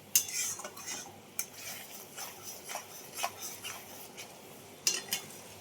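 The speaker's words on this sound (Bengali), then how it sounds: "এবার একটু ভালো করে একটু নাড়িয়ে দেবো।" Green chillies stirred in a pan with a spoon: scattered light metallic clicks and scrapes with a faint sizzle underneath, fairly quiet and irregular, no talk.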